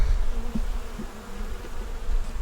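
Honeybees buzzing around an open hive, a continuous close hum with individual bees flying past the microphone, no voices.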